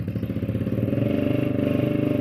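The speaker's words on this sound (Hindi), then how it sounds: "अभी बहुत टाइम बाद हम इस बाइक को स्टार्ट कर रहे हैं, फाइनली हो भी गई। साउंड सुने गाइस आप इसका" A repaired motorcycle engine runs loud and close, with a fast steady pulsing beat throughout and no voices.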